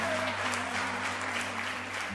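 Church congregation at a Baptist crusade applauding, a dense, steady wash of clapping from many hands that fills the room at moderate loudness, with a low hum underneath.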